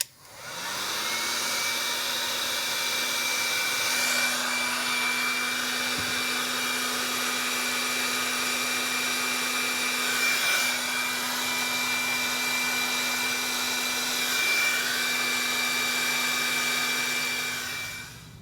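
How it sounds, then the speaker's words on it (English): A heat gun runs steadily for about seventeen seconds, a loud continuous blowing hum with a fixed whine, shrinking layered heat shrink tubing during a modification of a Bertan 205A-01 1kV high-voltage power supply. "So I'll go ahead and use the heat gun and shrink that one down."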